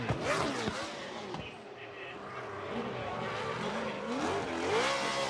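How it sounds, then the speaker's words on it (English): A race car engine revs and accelerates during qualifying at Ebisu Circuit West Course in Fukushima, its pitch sweeping up and down in loud, sustained surges. "I don't know how much you guys hear it, but this car sounds amazing."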